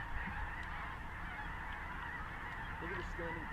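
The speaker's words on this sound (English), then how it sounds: "Look at all those snow geese." A flock of snow geese honking continuously at a distance over a feeding field, a steady layered chorus of calls with a few nearer honks standing out near the end.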